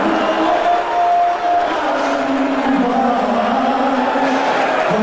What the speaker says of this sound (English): I know that there are people booing, obviously,